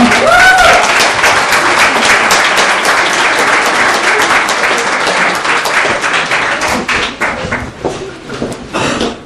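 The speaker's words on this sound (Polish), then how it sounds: "Ogromne brawa dla Mateusza." A crowd at a karting season awards gathering applauds the league winner, loud, dense clapping that runs strongly for about nine seconds before thinning and fading near the end, with a brief voice at the very start.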